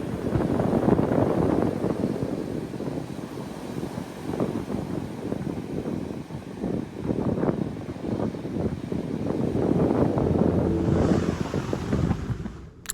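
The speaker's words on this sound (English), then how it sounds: "it was too windy, so you couldn't really hear what I was saying" Strong wind buffets the microphone in a steady roar, with ocean surf washing underneath throughout, on the coast at Monterey.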